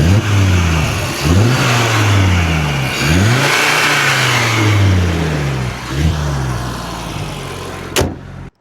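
An Audi RS3 2024 with a 2.5-litre turbocharged, intercooled inline five-cylinder of 400 hp revs repeatedly, loud and close, its pitch sweeping up and down through about six throttle blips with no talk.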